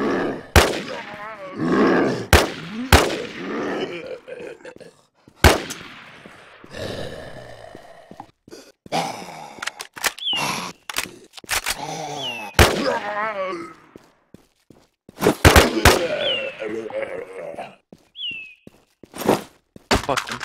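Gunfire in a zombie shooting video game, with repeated sharp shots scattered across the stretch amid grunts, gasps and in-game noise, some bursts clustered close together.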